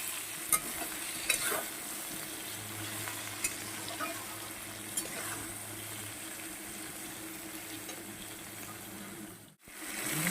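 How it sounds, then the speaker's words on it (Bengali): Drumstick vegetables sauté in a pan with turmeric and salt, producing a low, even sizzling hiss with occasional faint stirring clicks and a short break near the end. "হলুদ লবণ দিয়ে একটু আরও এক মিনিট মতন একটু কষিয়ে নেবো"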